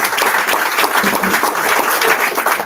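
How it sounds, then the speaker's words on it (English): An audience at a college launch event applauds students, giving dense, sustained clapping from many hands that stays loud and even throughout, with no distinct voices above it. "A proper clap this time for the students."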